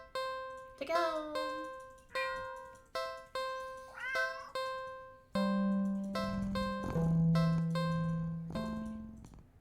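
A pet cat in a video game meows repeatedly in short separated calls, then gives longer sustained tonal cries, loud and close with no talk.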